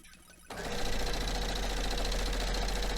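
A sewing machine stitching quilt fabric starts abruptly after a short quiet moment and then runs steadily at a fast, even mechanical rattle, close and loud.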